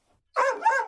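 A single short dog bark, close and clear, after a moment of silence.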